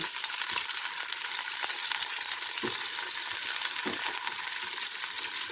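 Chopped onion sautéing in a pan, a loud continuous sizzle with occasional scrapes from stirring, heard close up and alone.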